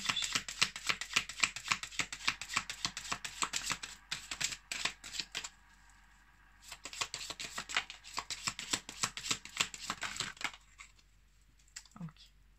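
Tarot cards shuffled and drawn: fast, dense riffling and flicking in two long bursts separated by a short pause, close and fairly loud, followed by a moment of quiet.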